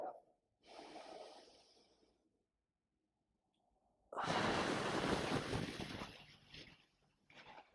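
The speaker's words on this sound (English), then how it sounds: "We'll repeat our breath." Audible breaths during a dead bug core exercise: a soft inhale and exhale, a pause, then a longer, louder rushing exhale close to the microphone, with no speech.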